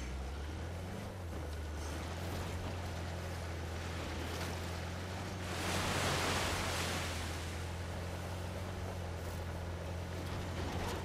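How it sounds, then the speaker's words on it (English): Waterfall in Uncharted: The Lost Legacy, a steady broadband rush of falling water that swells briefly in the middle, with a low game hum beneath and no talking. "I could go underneath the waterfall."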